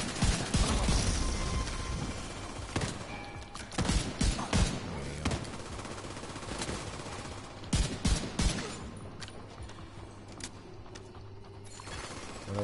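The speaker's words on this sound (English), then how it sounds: "I'm just overwatching and shooting fucking everybody" Video game gunfire from The Division 2: rapid automatic bursts and single shots with sharp cracks and impacts, loud and close, arriving in clusters with brief pauses, plus faint voice chatter in the background.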